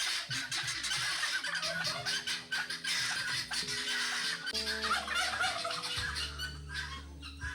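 Turkeys of a white variety on a farm gobble and squawk loudly and repeatedly, their calls overlapping in a dense, continuous chorus with no talking.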